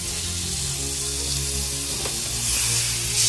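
Cajun blackened steak sizzles loudly and steadily in a hot pan, a dense continuous hiss with a brief clatter midway and a slight swell toward the end.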